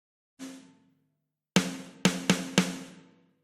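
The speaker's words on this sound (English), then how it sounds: "this is the snare from the Logic Retro Rock." Logic Retro Rock snare drum sample played alone: one softer hit, a pause, then four sharp cracks in a quick uneven run, each with a short ringing tail.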